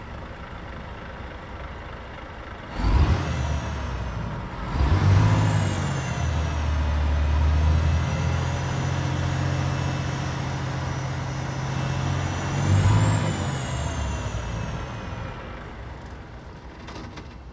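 A heavy truck engine in Euro Truck Simulator 2 rumbles low and steady, with several surges where it revs up and settles back, alongside thin whining tones. No one speaks.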